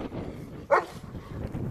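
A livestock guardian dog gives a single short bark at mid distance, loud against outdoor background noise.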